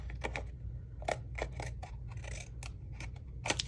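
Scissors cut paper for a coffin-shaped junk journal page. A series of crisp, close snips comes in an uneven rhythm over a low background hum, with no talking.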